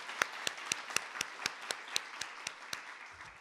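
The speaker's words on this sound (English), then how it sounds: "So let's give them one more round of applause for bringing us all together" Clapping at a law school women's leadership summit keynote, a steady run of about a dozen sharp, evenly spaced claps, fairly faint and close, with no talking.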